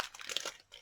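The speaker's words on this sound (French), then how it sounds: "ici, on va donc préplier hop, ma carte" Card paper from a kit is pre-folded by hand, giving a quick, close series of soft crinkles and creases. A short pause comes before a final crackle.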